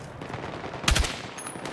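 Gunfire during a Battlefield 6 campaign mission, a loud close burst of rapid shots over a steady backdrop of battle noise, with no voices.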